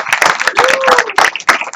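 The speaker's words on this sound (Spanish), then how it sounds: "Un aplauso a" Scattered clapping from a small group of people at a Baptist church service, brisk and irregular, with some voices mixed in.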